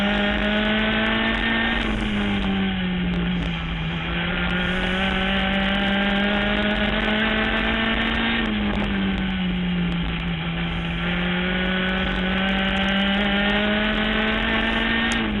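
Race cars scream around a short track during a 25-lap race, a loud continuous engine drone whose pitch rises and falls in long sweeps as the cars pass, with no speech.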